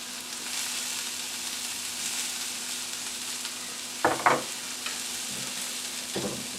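Food frying in a pan for a country breakfast: an even sizzle throughout, with a couple of louder clatters of a utensil in the pan toward the end.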